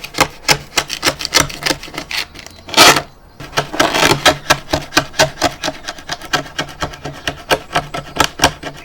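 Sandpaper rubbing back and forth over the stripped wooden cabinet of a Bush VHF64 radio, a close, loud, steady rasping rhythm of quick strokes with one brief pause partway through.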